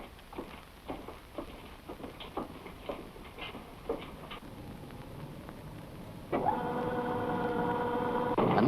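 An 8-ton coal cutting machine working underground, with irregular clicking and knocking that gives way to a steady mechanical whine and hum, moderately loud.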